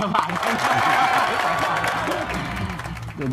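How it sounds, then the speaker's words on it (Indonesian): Audience applause with some cheering at a PJOK teachers' sharing session, a steady dense clapping wash from a small crowd that holds for a few seconds before tapering, with voices mixed in underneath. "tepuk tangan udah aplaus kita"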